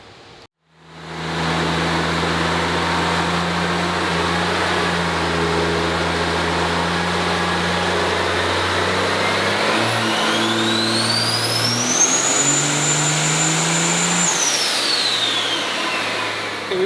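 A 2012 twin-turbo truck engine revs on a chassis dyno, starting from near silence and then climbing in a loud, sustained roar. A rising turbo whine peaks toward the end before the engine eases off.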